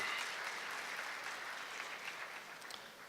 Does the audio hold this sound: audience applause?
yes